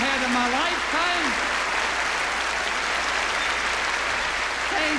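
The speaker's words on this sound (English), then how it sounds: "that's the biggest applause I've ever had in my lifetime" A large audience applauds warmly at a live 1982 touring show, dense steady clapping filling the hall throughout while a voice speaks over it near the start and end.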